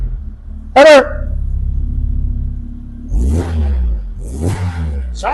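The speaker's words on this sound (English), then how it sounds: "And the engine sounds really sweet. That's because it's got a normal exhaust on it." Citroen Saxo engine on a normal exhaust, running steadily up close, then revved twice in strong rising bursts. A brief voice-like squeal sounds early on.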